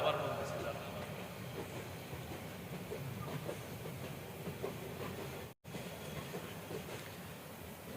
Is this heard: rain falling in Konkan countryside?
no